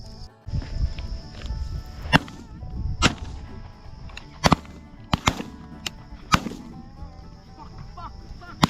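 Shotgun shots during a dove hunt: several sharp, loud blasts spaced a second or so apart, one quick double, ringing outdoors over steady background noise.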